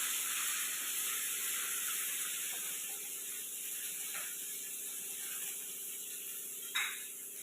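Chopped onion hits a hot pan with spices and peas and sizzles in a steady, bright hiss. The hiss goes on without a break, with faint ticking clicks and a brief stir near the end.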